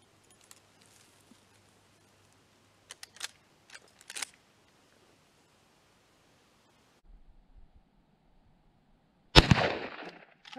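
A 14-inch Winchester Trapper lever-action carbine fires a few sharp shots outdoors, short cracks spaced apart in mostly quiet surroundings, with one loud blast near the end.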